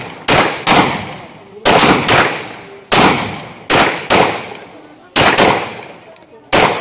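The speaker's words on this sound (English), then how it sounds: "The line with the 22 TCM, I'll fire off maybe 2 or 3 shots" Sharp, loud gunshots from a 1911-style pistol chambered in 22 TCM crack out at a steady pace, each report trailing into a short echoing decay, roughly eight shots over several seconds.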